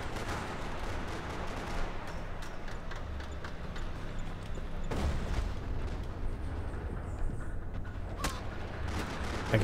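Gunfire in a Max Payne 3 multiplayer free-for-all match: a dense, continuous clatter of shots and rattling noise, steady and fairly loud throughout, with a sharper burst near the end.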